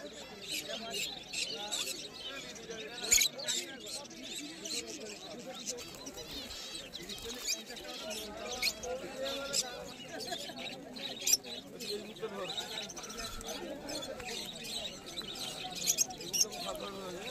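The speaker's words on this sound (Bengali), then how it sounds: "এই খাঁচাটার মধ্যে কিছু লাভবার্ড আছে, লুটিনো লাভবার্ড আছে, ফিশার লাভবার্ড আছে" Small lovebirds, lutino and Fischer's, kept together in a market cage, give scattered high chirps and tweets over a busy background with people talking.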